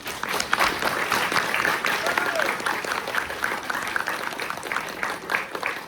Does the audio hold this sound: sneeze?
no